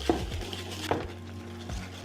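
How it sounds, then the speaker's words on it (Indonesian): A utensil stirs brownie batter of eggs, melted chocolate and butter in a bowl, giving two sharp clinks against the bowl over a steady low background hum, with no voices. "Ini kita aduk sampai nyampur banget, baru boleh masukin bahan kering."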